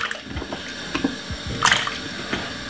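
Potatoes dropped into a bowl of water for washing in a kitchen, with several irregular splashes and sloshes close by, one brighter splash near the middle, and no talking.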